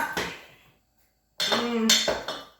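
Cheese is stirred into food in a dish, with scraping utensil clinks against the bowl in two bursts around a short pause.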